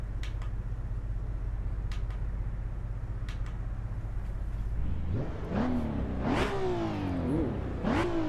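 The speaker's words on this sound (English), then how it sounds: "Very responsive engine." A car engine in the Assetto Corsa EVO racing game, played in VR, hums at a low idle. It then rises into several quick revs that climb and fall back in sharp, responsive bursts.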